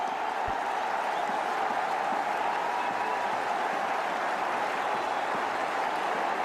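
Spectators at the 2014 Asia Cup ODI between Pakistan and Bangladesh cheer and applaud Mominul's fifty, a steady, even roar of the cricket crowd that holds at a constant level throughout.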